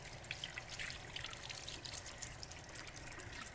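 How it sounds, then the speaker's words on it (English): Water from a tap runs while hands are rinsed off, a faint, steady trickle and splash with no voices. "So I'm gonna rinse my hands off really good."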